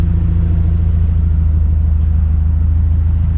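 A car engine held at a steady, loud, droning rumble during an acceleration pull while racing on a 4500 rev limiter, close and continuous with no talking.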